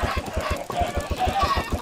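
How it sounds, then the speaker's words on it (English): A crowd of Minecraft chickens clucks in the video game, rapid overlapping electronic clucks in a steady pulsing rhythm, loud and close with no talking. "There's gonna be so many chickens in here."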